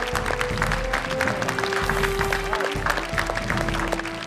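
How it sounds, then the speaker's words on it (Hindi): A studio audience in a hall claps steadily throughout, a dense, continuous round of applause heard close and fairly loud. "इस हॉल में, स्टूडियो में बजने वाली तालियां"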